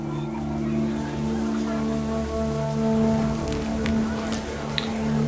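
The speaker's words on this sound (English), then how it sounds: "The rain came down in buckets then, but no one seemed afraid that nature might destroy the tent our dad had crudely made." Steady rain falls in the video game What Remains of Edith Finch, a continuous hiss of drops on surfaces alongside a low droning background, with a few brief clicks near the end.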